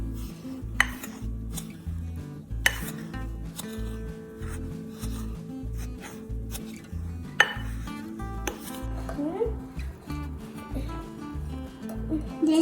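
Sweetened condensed milk is mixed in a bowl with a spoon, giving a steady, rhythmic scraping and stirring close up, with occasional sharp clinks of metal against the bowl and faint background music.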